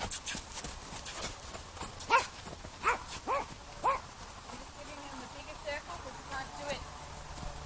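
A horse canters on a lunge line, its rhythmic hoofbeats fairly faint beneath a person talking.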